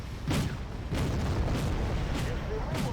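Artillery in the video game Wargame fires a series of heavy booms, about five evenly spaced blasts over a few seconds against a rumbling battlefield background.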